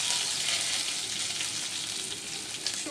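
Whole bay leaves and cinnamon sizzle steadily in hot frying oil while mango pickle is prepared, a dense, even crackle held close and loud for the full three seconds with no voices.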